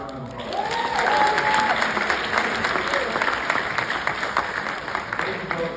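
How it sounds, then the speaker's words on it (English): An audience at a school district keynote breaks into a strong round of applause, dense clapping with a few cheers and voices mixed in, gradually thinning toward the end. "Everyone give a round of applause."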